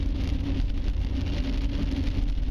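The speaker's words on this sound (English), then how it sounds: "we've got a little rain" Light rain falling in a suburban setting, a steady soft patter with a low, continuous rumble underneath, no voices present.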